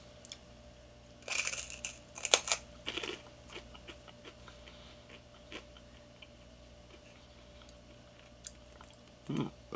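Crunchy chewing of freeze-dried orange pieces with peel, heard close up as irregular bursts of crisp crunches clustered early on, then quieter scattered chews and a final crunch, with no talking.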